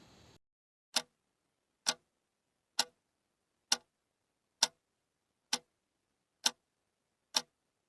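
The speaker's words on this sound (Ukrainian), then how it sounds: "Цокає годинник." A clock ticks alone in quiet, eight sharp, evenly spaced ticks about one second apart, crisp and close.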